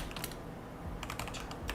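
Rapid bursts of clacking on a computer keyboard, close up, come in two quick flurries separated by a short pause, over a dense steady background rumble.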